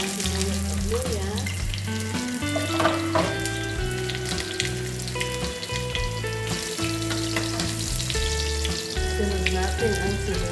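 Onion and ginger frying in a pan for chicken neck soup, a steady loud sizzle and crackle running throughout, with music playing over it.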